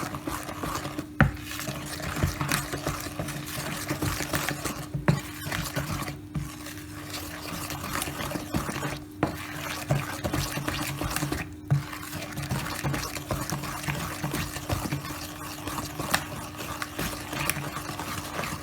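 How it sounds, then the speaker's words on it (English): Banana oaty muffin batter is stirred in a bowl, a long, continuous wet scraping and sloshing with regular spoon knocks against the sides, close and steady, with no voices. "Now I'm going to mix it all together."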